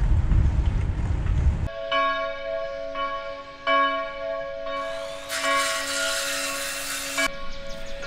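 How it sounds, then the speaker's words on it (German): Chapel bells ring out beside an old railway line near a moated castle, loud tonal strikes with long sustained hum, pealing steadily and fairly near with no talk. "Im Hintergrund hört ihr die Glocken der Kapelle läuten"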